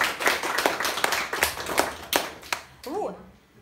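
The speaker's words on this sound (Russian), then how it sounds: "Это аплодисменты, Вера?" A small group claps in quick, uneven rhythm during an indoor training session, the applause trailing off as a voice briefly comes in at the end.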